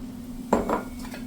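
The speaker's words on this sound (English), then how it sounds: "Stir it up." A spoon clinks twice against a container while glycerin is stirred into a key lime pie moonshine mix, a brief pair of close metallic taps over a low steady hum.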